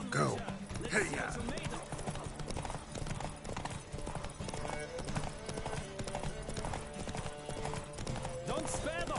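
In The Witcher 3, horses gallop through a race with rapid, rhythmic hoofbeats and an occasional whinny, while voices shout over the pounding.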